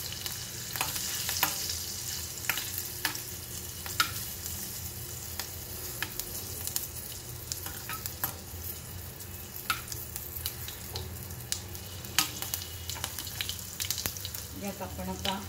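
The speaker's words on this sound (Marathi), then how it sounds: "फोडणी करताना गॅस बारीक ठेवलाय" Turmeric and spices sizzling in hot oil over a low gas flame as a tempering is made for cabbage masala bhaji, a soft continuous frying crackle with occasional stirring clicks and scrapes.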